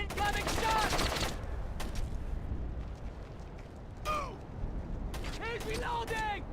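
Bursts of incoming gunfire in the stealth video game Splinter Cell: Chaos Theory, clustered in a dense volley at the start and again in sharp sporadic shots near the end, over a steady low game ambience.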